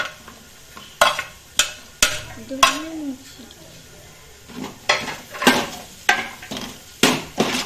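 Capsicum stirred and fried in a home kitchen pan: repeated sharp scraping clanks of a spoon against the pan over a steady sizzle, with a brief voice in the middle.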